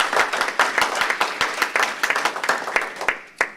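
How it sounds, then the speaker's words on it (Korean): A church congregation at a Sunday service applauds, a dense, steady wash of many hands clapping nearby for several seconds and fading slightly at the end. "우리 남성 동지들, 여성 동지들한테 한번 박수로 격려합니다"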